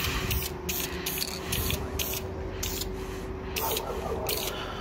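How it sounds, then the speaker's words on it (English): Bursts of aerosol spray paint on a Blade Runner blaster prop after sanding and putty repairs, about ten short hissing passes in a steady rhythm, close and fairly loud over a faint hum. "I'm going to go ahead and spray it now."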